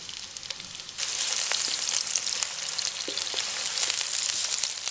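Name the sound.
onion slices frying in hot cooking oil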